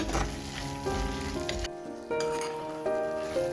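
Tomatoes cooking in a pan for tomato pickle sizzle and fry while being mashed and stirred, with scraping and clinking of a utensil in short bursts, fairly soft and close.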